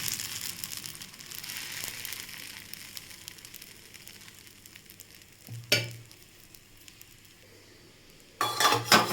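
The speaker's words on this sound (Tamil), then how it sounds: "தோசைக்கல் நல்லா காஞ்சிருச்சு ஒரு கரண்டு தோசை ஊற்றி இந்த மாதிரி ரவுண்டாக ஊற்றி" Dosa batter sizzles on a hot griddle in a steady frying hiss, with two sharper bursts of sizzling and clatter as more batter or oil hits the hot surface.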